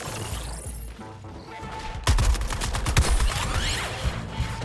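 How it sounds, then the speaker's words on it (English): Airstrike in the video game Suicide Squad: Kill the Justice League: after a quieter lead-in, loud impacts of explosions and rapid gunfire bursts hit at once, then a dense, sustained barrage with crashing debris rolls on to the end. "Airstrike."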